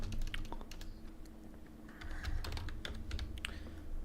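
Computer keyboard typing in a steady run of quick, light clicks, close and fairly quiet, while a spreadsheet is set up with no one talking.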